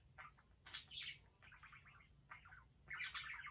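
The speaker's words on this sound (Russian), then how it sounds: "И одна птица своей породы не любит птицу своей породы так, как любит эта мелкотня вот этого голубя." Small birds chirp and tweet in quick bursts, close by and fairly faint, sharing space with a pigeon indoors, with a low steady hum beneath and no talking.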